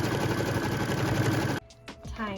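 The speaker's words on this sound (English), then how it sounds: "And we get to stitch the tack down line for that piece number 5." A sewing machine runs in a fast continuous whir while stitching the tack-down line on a quilt block, then stops abruptly, leaving a few quiet handling sounds.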